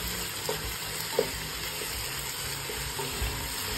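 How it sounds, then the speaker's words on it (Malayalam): Tomatoes and onions sizzle steadily while sautéing in a pan for Kerala mutton biryani, a constant close frying hiss with a few soft stirring knocks and no talking. "നമുക്ക് ഈ തക്കാളിയും ഉള്ളിയും സവാളയൊക്കെ ഒന്ന് നല്ല രീതിയിൽ വഴന്ന് വരണം"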